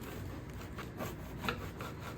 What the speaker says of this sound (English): So we're just going to cut it a little bit on the diagonal